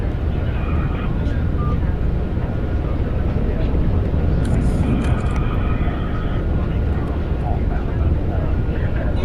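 On an aircraft carrier deck, a jet engine roars steadily and loudly as it throttles up, a constant broadband rush with faint voices underneath.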